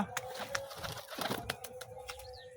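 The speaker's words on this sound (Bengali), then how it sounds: "চলে এলো দুটি পায়রা" Pigeons coo softly and repeatedly at close range during a training session, with low murmuring calls and a few brief wing sounds over quiet background noise.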